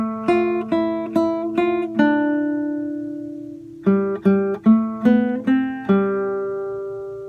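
Single guitar notes pick out a melodic phrase of a song, clear and close, with a few quick plucked notes, one long sustained tone, then another short run, no talking.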